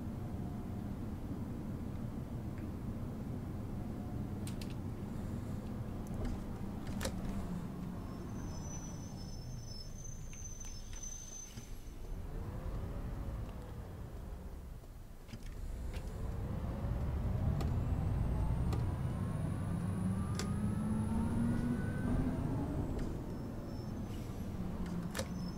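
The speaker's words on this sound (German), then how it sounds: "Also zumindest das ZF-Getriebe hört man schon mal etwas, wie es scheint" Transmission whine from a ZF gearbox in a city bus driven in OMSI 2, rising and falling with long gliding tones over a steady engine drone and road rumble, fairly faint and continuous.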